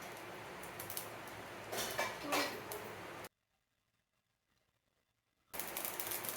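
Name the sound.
mustard seeds spluttering in hot oil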